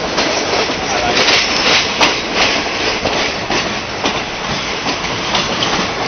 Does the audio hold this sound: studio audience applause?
no